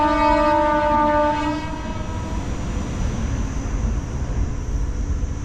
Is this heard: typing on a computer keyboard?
no